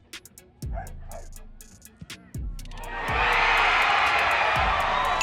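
Fans at a championship game imitate a dog with a few sharp barks, then a crowd roars and cheers loudly and continuously.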